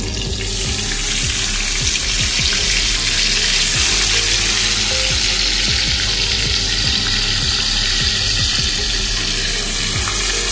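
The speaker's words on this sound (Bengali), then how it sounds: "এবারে চিকেনের পিসগুলো একে একে ভেজে নেওয়া হবে।" Chicken pieces sizzle and crackle in hot oil for a chicken curry, a steady dense frying hiss throughout with small pops, close and fairly loud, no voices.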